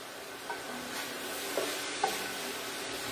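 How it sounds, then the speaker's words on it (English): Italian sausage sautéing in ghee in a pan gives a steady, soft sizzle and hiss with a few light clinks of stirring, fairly quiet and with no talk. "I'm just going to saute these guys together"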